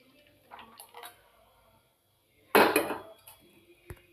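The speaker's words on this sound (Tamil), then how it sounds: "தண்ணி கொதிச்சிருச்சு, அதில் நாம் ஊற்றிடலாம்." A stirred mixture is poured into a pot of boiling water, a short loud splashing rush after a few light utensil clinks, followed by a sharp clink near the end.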